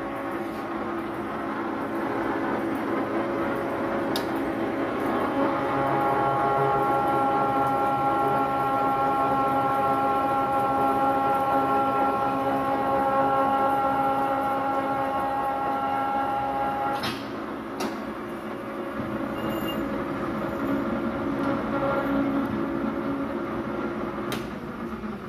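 A Landis 20LM pipe threader machine runs steadily with a droning motor hum and whining tonal layers, holding fairly constant for about seventeen seconds before the pitch shifts and settles into a lower, rougher running sound.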